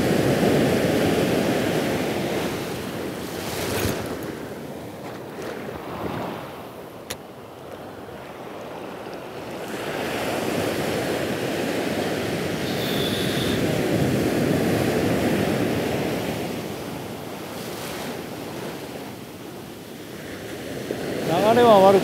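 Strong crosswind buffets the microphone on a summer seashore during surf fishing in Miyagi, a steady broadband roar with surf washing underneath, rising and easing in long gusts over the whole stretch.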